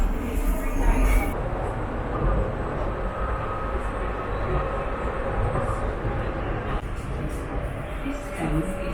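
A Docklands Light Railway train in London runs with a steady, loud rumble and rolling rail noise throughout, with brief onboard announcement-like voices over the carriage hum.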